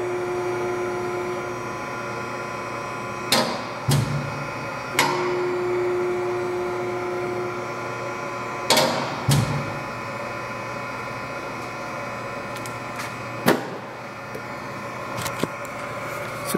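A Guilfil PE 15/30 hydraulic press brake, 60 inches by 33 tons, runs with a steady hydraulic hum and drone, broken by several sharp mechanical clunks and knocks at intervals as it cycles. No one speaks.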